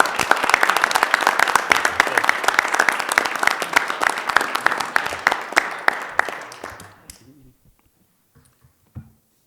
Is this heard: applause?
yes